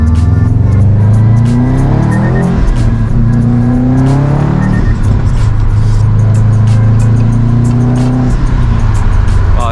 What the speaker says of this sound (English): it sounds so nice with the Q300 and the catless downpipe